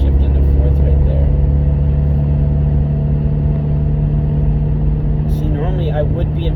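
A car engine holds a steady, loud, close drone after a downshift into fourth gear, its tone rising and falling only slightly as it pulls.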